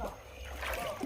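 Water splashing in the shallows of a river in Westmoreland, Jamaica, a brief loud splatter and slosh, close by.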